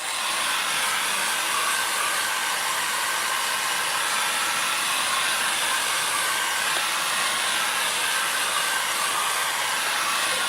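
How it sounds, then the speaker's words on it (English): A hair dryer blows hot air onto a gel printing plate, a loud steady broadband roar that runs unbroken from start to finish with nobody speaking over it. "We've got a hairdryer here."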